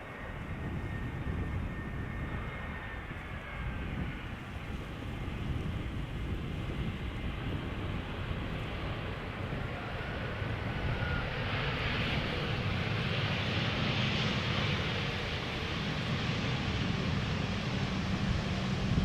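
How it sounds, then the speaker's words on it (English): A Vueling Airbus A320 arriving at Schiphol from Valencia: a sustained, moderately distant jet rumble that slowly builds and brightens in the middle before settling, with no talk. "Next up is another Vueling A320 arriving from Valencia"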